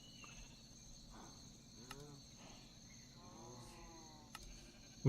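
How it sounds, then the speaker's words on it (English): Minecraft modded crickets chirp steadily at a soft, constant level, with faint rising and falling tones drifting across the background. "I hate the sound of crickets in this mod"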